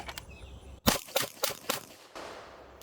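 A pistol fires at a target 10 yards away in three or four sharp, loud reports, spaced closely, with a quieter lingering tail after the last.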